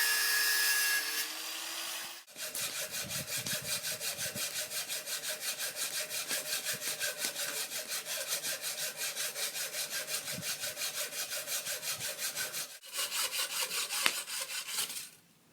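A saw cuts through PVC pipe being shaped into a spear point in fast, even back-and-forth strokes, a close rasping rhythm that stops briefly and resumes near the end.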